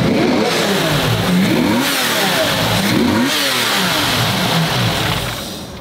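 A straight-piped car exhaust revs hard and continuously, its loud raspy engine note rising and falling through repeated throttle blips before easing off at the end.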